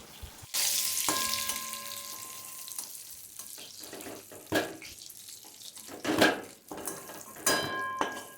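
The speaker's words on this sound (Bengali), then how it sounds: "আমার পটলটা বেশ ভালো করে ভাজা হয়ে গেছে" Pointed gourd (potol) fries in hot oil in a pan, a loud, steady sizzle that starts suddenly and carries on throughout, broken by a few sharp clinks and scrapes of a utensil.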